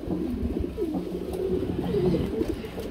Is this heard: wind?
no